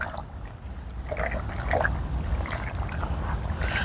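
Used paper egg trays soaking in water, with liquid trickling and dripping steadily at close range and no talk.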